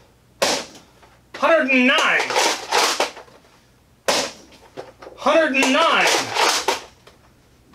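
A toy blaster fires gold darts through a chronograph. Two sharp, close snaps come about four seconds apart, and each is followed by a person speaking.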